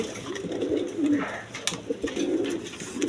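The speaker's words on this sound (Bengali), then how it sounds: "ডাকতেছে এই কবুতরটা খুব ডাকা ডাকে" A Kaldom pigeon coos close by in repeated low, throaty phrases, with faint background noise around it.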